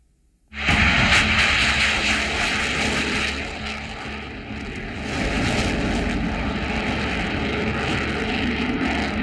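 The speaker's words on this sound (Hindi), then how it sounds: "फाइटर जेट रफाल की उड़ान" A Rafale fighter jet in flight roars in abruptly after a moment of silence, a loud, sustained engine rumble and rush that dips slightly midway and swells again.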